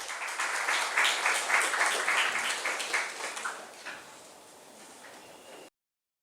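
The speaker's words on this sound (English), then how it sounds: "Please give a round of applause" A symposium audience in a hall gives a speaker sustained applause, a dense, steady clapping that slowly fades before cutting off abruptly.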